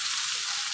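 Fish dropped into a frying pan with cooked cherry tomatoes sizzles in a bright, steady hiss, close and loud for a brief moment with no talking.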